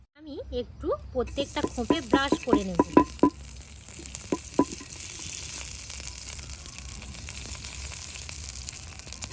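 Oil and water being stirred together in a heated pan, with a soft steady sizzle and light scraping that follow a woman's speech, close and fairly quiet.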